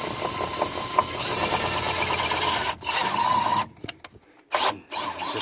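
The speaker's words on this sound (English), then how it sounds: "We'll drill a hole." A steady, buzzing power-drill whine runs for several seconds while drilling a hole during a JLT Performance 3.0 catch can install, then cuts out and restarts briefly in short bursts near the end.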